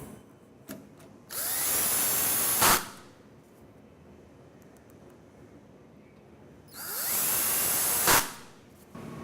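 A power drill runs in two sustained bursts of about a second and a half each, driving flathead screws through countersunk holes into a 1RU rack shelf. The bursts are close and loud, with quiet gaps between them.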